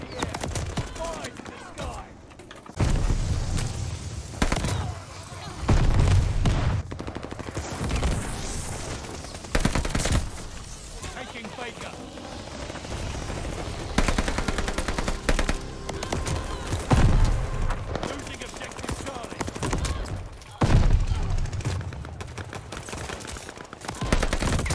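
Bursts of rapid gunfire in the multiplayer shooter Call of Duty: Vanguard, several loud volleys separated by short gaps, with a player's voice talking intermittently over the action.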